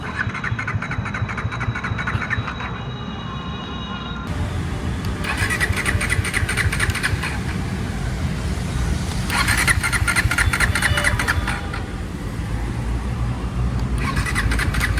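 A Bajaj Pulsar NS400Z motorcycle that has stalled is cranked repeatedly. Three close, loud starter bursts break a steady engine rumble.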